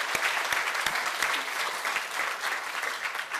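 A church congregation at an Easter morning worship service claps for the choir, a dense, steady round of applause from many hands that fills the room, with no talking over it.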